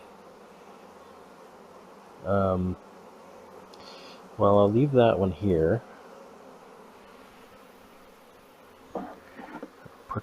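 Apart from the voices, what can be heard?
honey bees buzzing around an open hive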